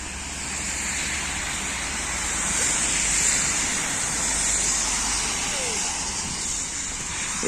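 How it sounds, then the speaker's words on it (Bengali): Cars drive along a flooded wet road in Serbia, tyres hissing and splashing water in a steady broad wash that swells and fades as vehicles pass, no talk. "রাস্তায় পানি কেমন গাড়ি চললে পানি ছিটি করতেছে"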